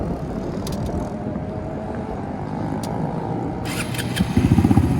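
A Honda Grom motorcycle engine runs with a low, steady rumble, then revs up in a short burst of louder pulses near the end.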